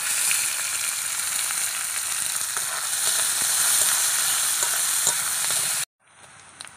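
Chopped onions hit hot oil with garam masala and whole bay leaves, letting out a loud, steady sizzle close by for about six seconds before the sound cuts off, leaving a quieter sizzle at the end.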